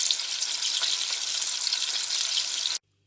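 Steak sizzling steadily in a hot pan for Beef Wellington, a loud, dense frying hiss that runs continuously for nearly three seconds before cutting off abruptly.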